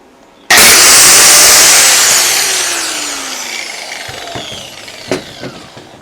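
A small cheap angle grinder with a thin cutting wheel bites into metal, a sudden loud screeching whine that slowly fades as the cut goes on, ending in a few short clanks.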